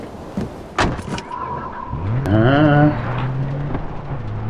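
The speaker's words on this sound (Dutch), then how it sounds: "Ik zit in de auto hier." A car in Far Cry 4, a few thuds and a door-like clunk, then the engine revs up in a rising whine and settles into a steady idle hum.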